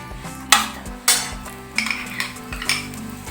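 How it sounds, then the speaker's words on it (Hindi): Ghee spread over a jaggery-stuffed paratha cooking in a pan, with sharp metallic clinks and scrapes of a spoon against the pan, several distinct knocks under a soft background sizzle. "अब मैं इसके ऊपर ये घी लगाऊंगी ताकि ये अच्छा सा कलर में, और इसको साइड में टर्न कर दूँ।"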